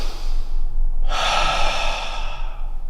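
A sharp breath drawn in through the nose, a forceful fighting-breath technique for martial arts stick training, rushing and airy, close and loud after a brief quiet lead-in.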